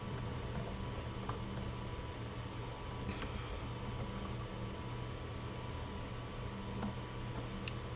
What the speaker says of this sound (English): I will type that in the chat for you guys.